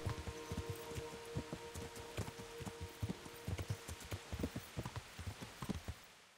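Horse hooves clip-clop in the video game Kingdom Come Deliverance, a quick, steady run of soft thuds over faint rain-like background hiss, with no talking.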